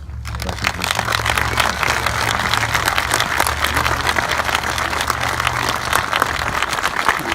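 Sustained applause from a standing crowd at a memorial ceremony for Vietnam veterans at a funeral home, honoring the vets and their families; dense, steady clapping fills the whole stretch with a low hum underneath.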